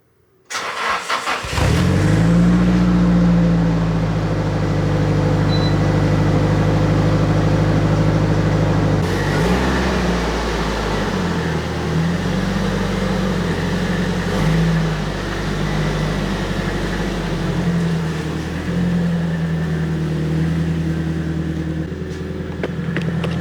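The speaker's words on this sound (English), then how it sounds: "I'm gonna pull this car outside" A Nissan S15 engine starts and settles into a loud, close, steady idle and low rumble outdoors, with a brief rev in the middle and no talking.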